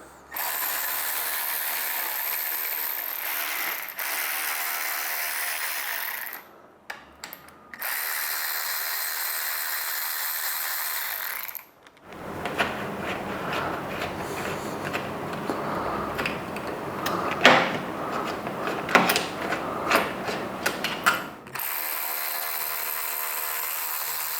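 A hand ratchet working loose a slider on a BMW S 1000 RR sport motorcycle, giving long runs of rapid, close clicking broken by short pauses, then a rougher burst of clattering tool and mechanical noise.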